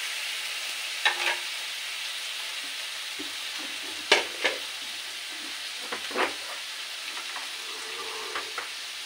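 Spices and vegetables for an eggplant, prawn and potato curry fry in a pan while being stirred, a steady soft sizzle broken by a few sharp scraping clicks of the spoon, close and alone with no talk.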